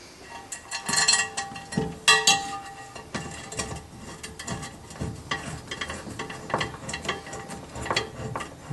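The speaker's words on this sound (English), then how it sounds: "just screw that until the cistern touches the wall" Bolts with metal and rubber washers being screwed in to fix a porcelain toilet cistern to a wall, a close run of irregular ratcheting clicks and grinding turns, louder at first, then softer and steady.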